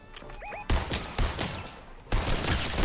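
Bursts of Fortnite gunfire crack out in three or four loud volleys of rapid shots, with short pauses between them and a brief electronic game chirp just before the first burst.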